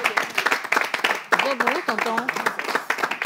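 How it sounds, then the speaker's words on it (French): A TV studio audience rises to applaud the viewers, with quick rhythmic clapping bursts mixed with cheering and lively voices, fairly close and continuous. "nous voulons simplement nous lever à partir de cet instant pour applaudir les téléspectateurs"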